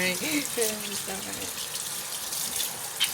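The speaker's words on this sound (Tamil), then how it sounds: "நீ ஹேண்ட் நல்லா வாஷ் பண்ணு. Wash thoroughly. ரப் பண்ணி கழுவு கையை." Tap water runs steadily into a sink while hands are washed, a soft continuous splashing wash. A voice speaks over it.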